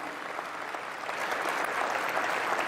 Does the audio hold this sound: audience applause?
yes